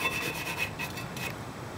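A wire brush scrubs rust off a rear brake rotor in quick, quiet rasping strokes, a soft scratchy rubbing that stays fairly faint and close.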